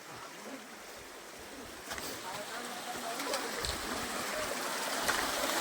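Water rushes and gurgles steadily nearby in a mountain stream by a village, a continuous flowing wash with slight surges; speech may be faintly present underneath.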